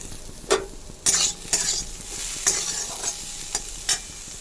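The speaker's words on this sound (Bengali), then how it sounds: "আলু আর ক্যাপসিকামটা ভেজে নেবো।" Potato and capsicum fry in oil in a pan, a soft sizzle broken by a series of sharp scraping strokes of a spatula stirring against the metal, close and alone without speech.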